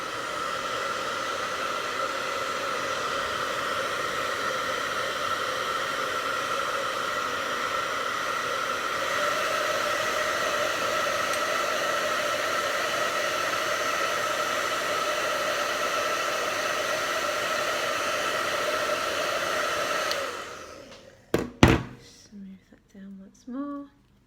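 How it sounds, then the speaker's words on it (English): A hairdryer blows hot air over Jamberry nail wraps to seal them, a steady, moderately quiet whooshing hum that runs for about twenty seconds before clicking off, followed by a few handling knocks. "seal it again with a hairdryer"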